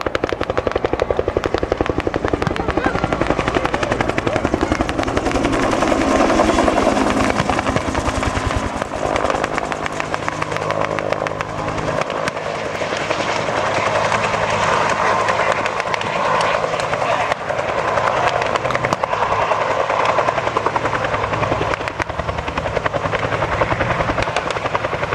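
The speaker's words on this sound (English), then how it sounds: "the Sky Raider peeling off, getting set up to respond with appropriate ground support fire from these two very powerful aircraft" A Sky Raider aircraft flies past at the 2008 Temple airshow, its heavy engine drone loud and continuous for the whole stretch, rising and falling slightly with talk from the crowd underneath.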